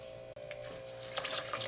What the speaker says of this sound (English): I'm gonna add lots of water